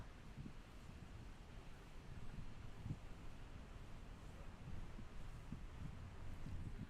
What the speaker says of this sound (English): So you can hear it's a slightly windy day.